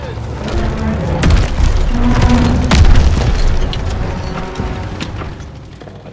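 Friendly tanks roll over trenches during a Call of Duty WWII battle, a heavy rumbling drone with deep booms and mechanical clatter, loud and sustained throughout.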